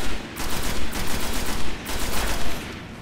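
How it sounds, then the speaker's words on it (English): Rapid, loud automatic gunfire from the Destiny game on Mars at the Garden's Spire, pulsing in quick repeated bursts that run steadily for a few seconds. "That was some piss poor shooting that was."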